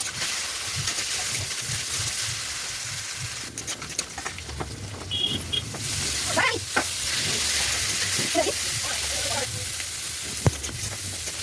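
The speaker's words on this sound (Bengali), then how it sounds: "এবার কড়াই একটু তেল দিয়ে আলুটাকে আর সজনে ডাঁটাটাকে ভালো করে ভেজে নিলাম" Potato and drumstick pieces fry in hot oil in a wok, a steady crackling sizzle with bursts of spatter and scraping stirs that grow louder midway, close and without talk.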